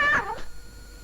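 A single short cat meow, close and clear, fading quickly into quiet in a Telugu comedy film scene.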